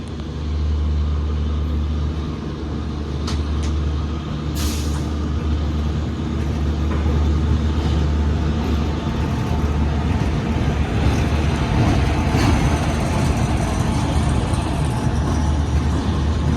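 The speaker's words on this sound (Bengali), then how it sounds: "আরেকটা ইঞ্জিন ঢোকাচ্ছে এই দুটোর জন্য।" A locomotive engine being brought in at a railway station makes a steady, loud low diesel drone, with a sharp hissing burst partway through and faint clanks over the rumble.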